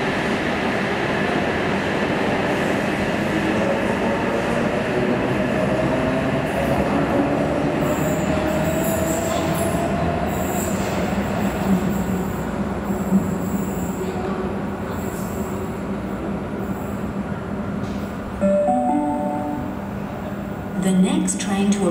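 A train rumbles along the rails into platform 12 at Redfern station during rush hour, with screeching wheel squeals and metallic clatter, slowing as it pulls in, with announcement-like voices faintly underneath.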